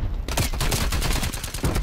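Hip-fire gunshots from a single weapon in a Call of Duty Dirty Bomb match ring out as a fast, close, loud volley of evenly spaced shots with no talking.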